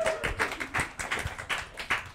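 Audience applause at a live talk, a sparse patter of claps in uneven bursts, fairly faint and with no talking over it.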